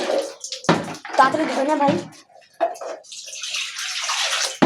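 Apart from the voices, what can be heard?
water running out from a tap or container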